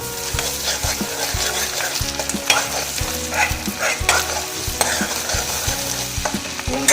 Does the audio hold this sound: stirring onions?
yes